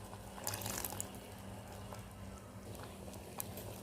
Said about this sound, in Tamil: கரைச்சி வச்ச புளியை ஊற்றிக்கலாம்.